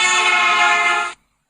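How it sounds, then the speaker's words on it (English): A single sustained car horn blast sounds loud and close on a steady, rich tone for just over a second, then cuts off abruptly into silence. "The horn to you might sound something like this."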